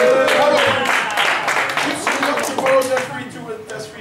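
Applause from an audience at a 2011 event's opening ceremony, a dense rattle of clapping hands that lasts the whole time, with voices and shouts mixed in.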